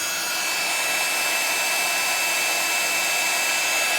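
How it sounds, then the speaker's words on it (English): An embossing heat tool blows with a loud, steady, hissing roar like a hair dryer, close by and unbroken for the whole stretch, with no voices over it. "It's the loud one, but this is because it's the embossing tool."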